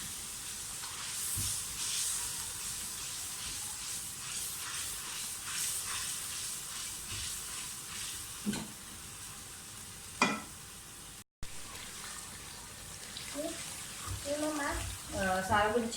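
Onion, garlic, ginger and green chilies sizzle in hot oil for whole green moong dal, a steady hiss broken by a few stirring clinks, with someone talking over it.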